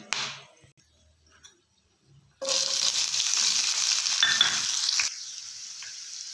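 Chopped onions drop into hot oil already carrying cinnamon, cloves and cardamom for a cashew masala curry, bursting into a loud, close sizzle for a few seconds before easing to a quieter steady fry.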